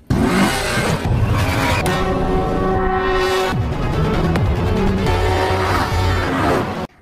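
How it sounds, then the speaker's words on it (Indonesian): A car speeding off during a film chase, its engine loud and revving hard with rising whines and roaring acceleration, mixed with dramatic film sound and no talk. "Kang Kyung langsung tancap gas dengan mobilnya."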